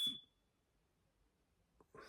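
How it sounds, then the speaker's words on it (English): A household smoke alarm with a failing battery lets out one short, piercing chirp that rings and decays at the start, then the room falls quiet apart from faint background noise. "I think that was the fire alarm, the smoke alarm. Battery must be running out."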